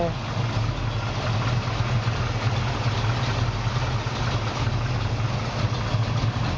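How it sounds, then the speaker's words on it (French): A 1972 Chevy C10 pickup's V8 engine with headers idles steadily with a deep, even rumble, loud and close, running without change throughout. "un moteur qui tourne bien, pèse bien, il a un bon ralenti et un bruit plus que sympa"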